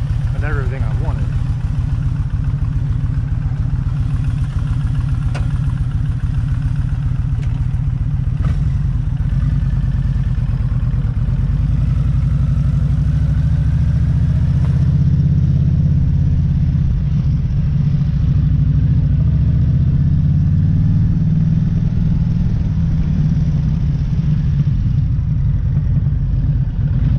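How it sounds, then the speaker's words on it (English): Kawasaki Nomad motorcycle engine rumbling steadily at close range, a deep continuous low throb that swells slightly partway through and runs alone without talk. "for a greater appreciation of the sound and the rumble of this bike"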